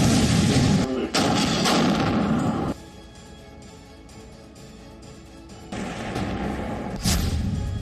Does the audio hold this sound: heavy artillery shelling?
yes